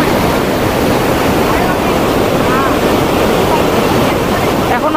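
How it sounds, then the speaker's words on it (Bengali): A strong river current rushes continuously along a broken bridge on the way to Kedarnath, a loud, dense roar of churning water with wind buffeting the microphone throughout. "বাপরে কি স্রোত জলের, ওই দিকটা দিয়ে আসছে একদম।"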